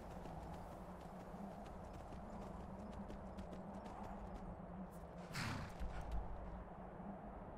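Rhythmic hoofbeats of a horse moving at pace in the video game Skyrim, over steady ambient noise, with a brief whinny-like burst partway through; fairly quiet and distant.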